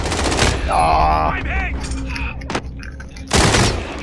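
Gunfire in a video game crackles in rapid bursts amid mechanical clicks and clattering, loud and close, with someone speaking and gameplay sounds mixed in.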